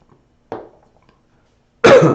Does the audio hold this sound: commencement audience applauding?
no